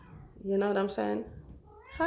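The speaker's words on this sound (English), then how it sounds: "Yeah, that's my cat." A pet cat meows clearly in the middle, a drawn-out tonal call heard close, with a voice speaking briefly before and after it.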